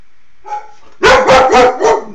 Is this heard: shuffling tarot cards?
no